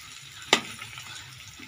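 A mixed vegetable pickle of carrot, radish and lemon cooks in a pan with a soft, low sizzle. One sharp utensil clack comes early on, and there is no speech.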